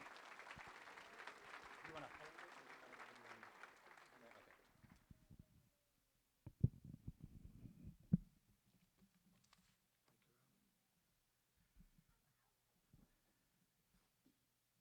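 Audience at a Rotary toast giving a round of applause, a dense burst of clapping for about five seconds that fades into scattered claps and faint room noise.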